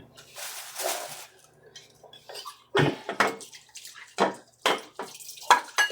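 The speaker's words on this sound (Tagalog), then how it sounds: "Turuan ko kayo para maghugas ng plato." Dishes being washed by hand under running water at a sink, with intermittent splashing, clinks of plates and bursts of tap flow separated by brief quiet gaps, close and fairly soft.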